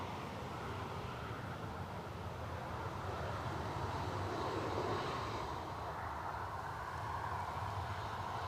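An Emirates Boeing 777 airliner passes high overhead near an airport, a faint, steady distant roar of jet engines swelling slightly and fading, with no talk.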